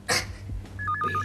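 A short electronic phone ring, a pulsing two-tone chirp repeating quickly after a brief rustle, fairly close and moderately loud.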